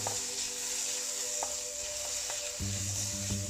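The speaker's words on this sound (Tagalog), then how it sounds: "Cook the ginger for a few minutes until it can" Ginger frying in a pan, a close, steady sizzle with occasional stirring clinks and scrapes and no talking.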